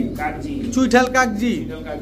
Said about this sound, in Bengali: চুইঠাল ইন্ডিয়ান কাকজি একটা পেয়ার একেবারে